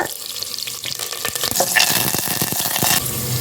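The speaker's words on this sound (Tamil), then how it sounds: "பாருங்கள், எல்லாமே நம்ம நெய்யில் நல்லா தாளிச்சிட்டோம்" Ginger, green chili, curry leaves and asafoetida temper in hot ghee for ven pongal, giving a close, steady sizzle and crackle with stirring scrapes.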